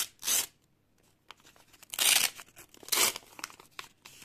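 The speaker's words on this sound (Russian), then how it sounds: "Пакетик у нас сегодня с собачками коричневый, разрываем его." A small brown paper packet decorated with dogs is torn open by hand, making three or four sharp ripping bursts with soft crinkling between them, close and fairly quiet, with no talking.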